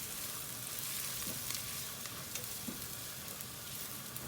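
Spices frying in a pan for carrot rice, with turmeric and roasted ground cumin being stirred in, give a soft, steady sizzle with a few faint scrapes, quiet and without talk.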